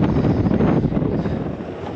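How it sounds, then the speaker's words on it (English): Wind blows outdoors by the Brisbane River, buffeting the microphone with a loud, steady low rumble that swells and eases throughout. "The wind's blowing behind me"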